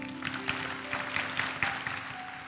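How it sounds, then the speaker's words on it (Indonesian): Church congregation clapping, a moderate, fairly steady patter of hands with a few sharper claps standing out, heard somewhat distant with a faint steady hum underneath. "Berikan tepuk tangan bagi Tuhan."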